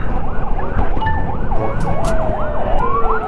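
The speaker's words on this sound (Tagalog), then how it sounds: "Ambulansya" An ambulance siren wailing as it passes on the road, a loud, close up-and-down yelp over steady traffic and engine rumble.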